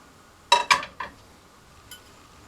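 A small frying pan handled on a kitchen surface gives three quick metallic clanks close together, then a softer fourth knock about a second later, crisp and near with no voices.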